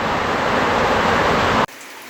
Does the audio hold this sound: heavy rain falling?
yes